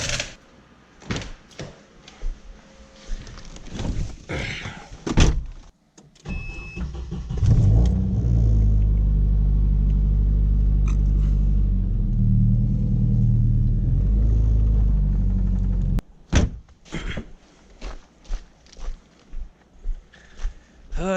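A Volvo 240 car starts and idles with a steady low engine rumble inside a garage for several seconds, framed by scattered clunks and shuffling noises before and after.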